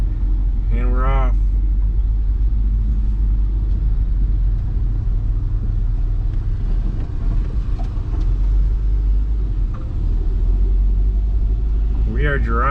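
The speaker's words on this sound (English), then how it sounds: "We are driving down the road, people." Honda CR-V, a neglected rebuilt model with possible misalignment, driving on a road: steady low engine and road rumble fills the cabin throughout, with brief voices breaking in near the start and end.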